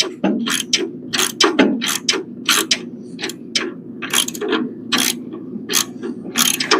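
A ratchet wrench turns a bolt held in place by a finger, giving a rapid series of close, sharp metallic clicks in uneven bursts over a low background hum.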